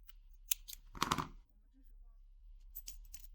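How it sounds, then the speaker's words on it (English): Scissors snipping waxed thread, close and quiet: a brief click followed by a crisp cutting snip, then near-silence with a few faint rustles. "Then snip it off."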